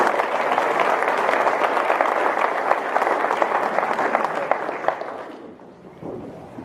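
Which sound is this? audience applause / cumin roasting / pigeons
audience applause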